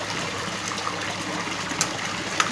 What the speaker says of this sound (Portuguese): Tá vendo a água aqui saindo?